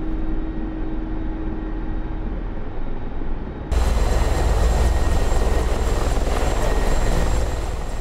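A Mi-24P attack helicopter lifts off in the DCS flight simulator. Steady rotor and turbine drone swells abruptly louder midway as power comes up, then holds as a loud, even roar.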